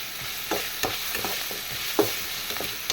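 Onions and goat brain saute in a pan, giving a steady sizzle broken by several scraping stirs of a utensil, close and without voices.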